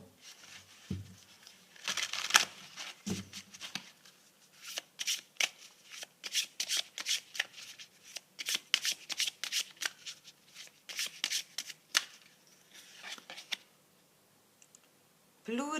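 Tarot and oracle cards are shuffled by hand at close range, giving bursts of crisp riffling and flicking clicks in irregular runs, with short pauses and no voice over them.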